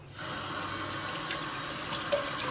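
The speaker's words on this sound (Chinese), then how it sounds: "我们只需要清洗一下就可以了。" Running tap water splashes steadily over farmed crocodile legs being rinsed in a sink before braising, a continuous close hiss with no talk.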